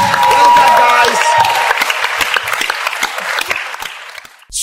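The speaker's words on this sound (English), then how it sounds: "Round of applause for all guys." Loud audience applause fills a talent show semi-final stage, dense clapping sustained for several seconds before fading out abruptly at the end, with a voice faintly present underneath.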